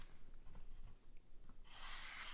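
A thin, flat-ground knife slices through a sheet of paper, giving a soft, close, papery hiss and rub that swells into a brief, steady rasp near the end.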